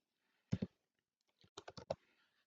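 Code is typed on a computer keyboard nearby: a quick pair of keystrokes, a short pause, then a burst of four or five crisp clicks in a quiet room.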